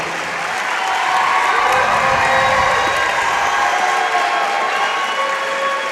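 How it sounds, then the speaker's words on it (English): Applause and cheering from a crowd honoring a girls volleyball team at a school sports recognition, a steady dense clapping that swells after the first second and holds loud throughout. "Let's give these girls a lot of applause for that."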